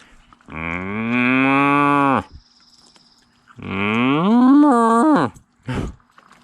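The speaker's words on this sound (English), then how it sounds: "Hey, are you a cow?" A cow moos twice nearby: two long, loud, resonant calls, the second rising and wavering, separated by a pause, followed by a short grunting sound.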